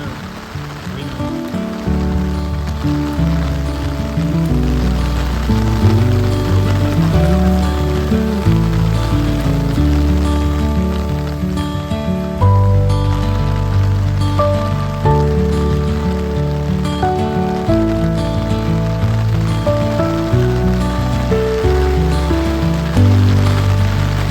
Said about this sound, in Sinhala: පොඩි කියන්නේ ටිකක් ලොකු වැස්සක්.